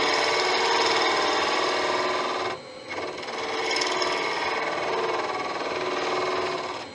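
A woodturning tool making light smoothing cuts on 5000-year-old bog oak on a lathe, a continuous close scraping rasp with a brief dip partway through before the cutting resumes.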